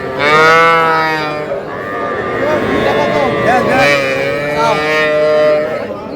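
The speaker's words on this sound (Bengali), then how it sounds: "এইটা আর এইটা ষাঁড় বাচ্চা।" Young bull calves moo close by on a Faridpur cattle farm, with long, loud, drawn-out lowing calls that overlap and fill the whole stretch.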